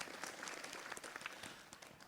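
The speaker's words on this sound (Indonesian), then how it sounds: "Tepuk tangan Bu buat guru kita" A hall audience claps steadily for a religious teacher at an Islamic lecture gathering; the applause is a quiet, even patter lasting about two seconds with no voices over it.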